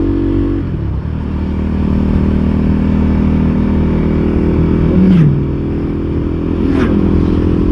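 Big motorcycles, one running a bit rich, pass by on a warm Yorkshire road. Two quick swelling passes stand out over a loud, steady engine and wind drone from the rider's own bike.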